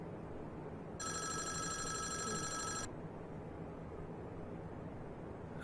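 A telephone rings once in the game Five Nights at Wario's: a single bright, buzzing electronic ring of about two seconds, standing out against a quiet background of hiss.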